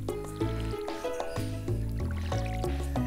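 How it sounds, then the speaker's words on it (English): Watering flowers with a watering can in the farming video game Stardew Valley: soft splashy trickles repeat in a steady rhythm over a bright, tonal background music track. "we're going to take care of our garden, going to water the flowers."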